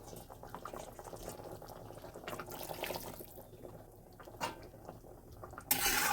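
Water splashes into a pot of simmering fish curry with potatoes, a bubbling, gurgling liquid sound close by, ending in a brief louder splash.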